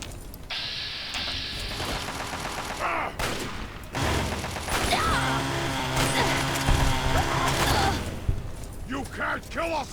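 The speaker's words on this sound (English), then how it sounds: "That sounds like a 32 rifle." Rifle fire in the video game Fallout 3: Tale of Two Wastelands, a rapid series of loud shots and mechanical clatter mixed with other game sounds and a voice speaking.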